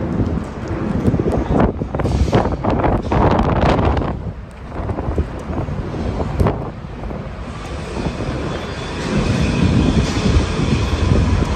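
A train rolls past on a Sydney street, heard as a loud, close rumble with rhythmic clatter and buffeting wind noise that dips briefly midway and then swells again.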